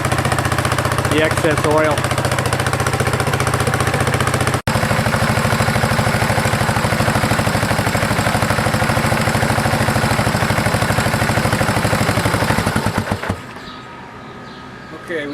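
A 1975 Honda XL250 motorcycle engine, suspected of seizing, idles loudly and steadily with a rapid, rough chugging pulse under brief talk. It runs for about thirteen seconds, then cuts off abruptly to quiet.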